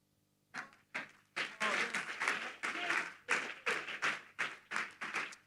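A church congregation claps in rhythm, roughly a dozen loud, evenly spaced bursts that grow fuller after the first few, with no speech heard.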